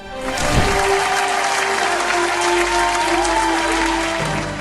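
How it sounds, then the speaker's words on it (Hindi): Loud, steady applause from a TV talent show studio audience at a gospel singing competition, sustained at full strength for several seconds before easing slightly at the end; a few faint voices sit under the clapping. "जोरदार तालियां हो जाएं"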